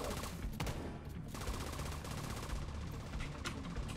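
Dense, continuous gunfire from The Division 2 fills the clip, rapid overlapping shots blending into a loud, steady barrage with no clear pauses and only faint voice underneath.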